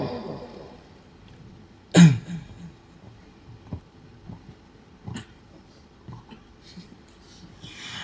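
A single sharp cough rings out close by, followed by quiet shuffling and small faint noises in an otherwise hushed room.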